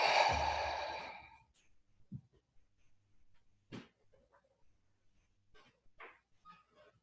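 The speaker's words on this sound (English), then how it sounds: "taking a deep breath in and out" One long, loud deep breath close to the microphone opens the sequence during a guided meditation, followed by quiet stillness broken only by faint soft breaths and small rustles.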